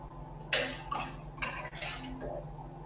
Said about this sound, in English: So you give this a very good stir.